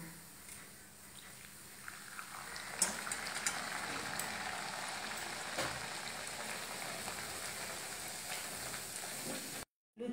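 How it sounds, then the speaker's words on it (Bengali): Luchi (puri) deep-frying in hot oil, a steady crackling sizzle that swells after a couple of seconds and stays busy and close, with no talking. "এই লুচিগুলো এক এক করে আমি ভেজে নিচ্ছি সব।"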